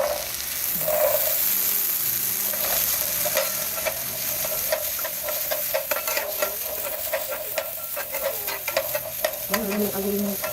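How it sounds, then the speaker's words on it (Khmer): Eggplant, chili, garlic and shallots roasting in a pan, a continuous crackling sizzle with repeated scraping stirs, close and steady throughout, no talking. "យើងយកត្រប់ពីញងហើយនឹង ម្ទេសខ្ទឹម សខ្ទឹមក្រហមយកមកលីងសិន"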